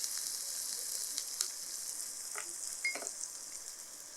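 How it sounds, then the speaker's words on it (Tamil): Steady hiss and crackle of tempering spices sizzling in hot oil for potato masala, with a few faint clinks of stirring, no voices. "அந்த எண்ணெயிலேயே அந்த தாளிப்பை நல்லா வதக்குறோம்"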